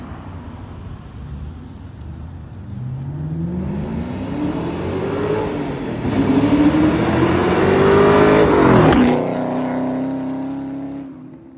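A 2003 Ford Mustang Mach 1 V8 revs from idle, climbing in pitch through rising pulls to a loud peak before settling back to a steady idle, heard close and alone, as if replayed from a recording.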